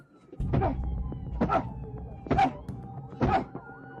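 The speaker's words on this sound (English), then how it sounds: "that's the suspect actually trying to open the door," Four heavy, muffled thunks at a steady pace, each about a second apart, as a suspect yanks and forces a jammed police car door against its frame.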